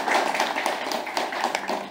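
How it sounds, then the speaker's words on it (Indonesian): A short burst of audience clapping at an Indonesian village entrepreneurship forum, a brief scattered patter of hands from the crowd. "Kita berikan tepuk tangan kepada beliau-beliau."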